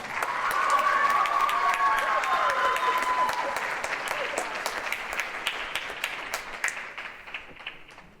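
Audience at a holiday jazz band concert breaks into a full round of applause, dense clapping at close range that swells early then gradually thins and fades over about eight seconds.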